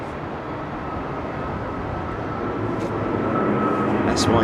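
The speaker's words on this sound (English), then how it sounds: "he'll be manipulating the throttles just to keep that aircraft at the right approach speed" Airliner on crosswind final approach into London Heathrow, its engine roar a steady broadband drone that slowly swells louder as it nears, with a voice talking over it.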